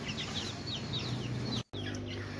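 Several young chicken chicks peep and chirp continuously in a farm brooding pen, their high cheeps overlapping against a low background hum, with a momentary cut near the end.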